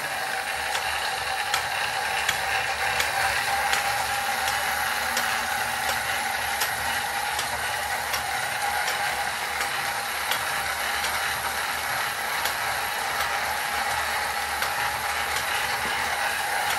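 An improved Eri silk spinning machine runs with a steady, close mechanical whir and a fine, regular ticking like gears and a ratchet, holding an even level throughout with no voices.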